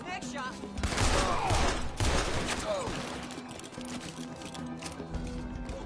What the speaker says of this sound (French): Oh là, ça tire d'où là?